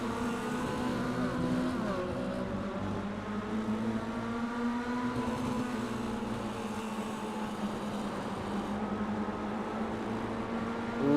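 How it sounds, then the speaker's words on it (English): Mini stock race car engine screaming near the rev limiter during a Thunderstruck Super Series race at Hickory, a loud, steady high-pitched drone heard close from behind the car, with other engines blending in. "Let's get a listen. Right at the back of Sam Wetstein's car."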